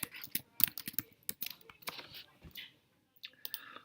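Someone types text on a computer keyboard in quick, uneven bursts of sharp clicks, close and clear, with a short pause partway through before the typing resumes.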